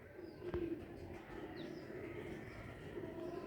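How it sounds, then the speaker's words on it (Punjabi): A Teddy pigeon coos softly in a low, throaty murmur against quiet room noise, with one brief tap and no speech. "ਓਰੀਜਨਲ ਟੈਡੀ ਕਬੂਤਰ"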